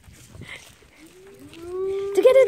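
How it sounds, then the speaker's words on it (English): A cow moos on a farm stay in Perth, giving a long rising call that swells into a loud, close bellow at the end. Children's voices and faint chatter come before it. "Look how the cow moo!"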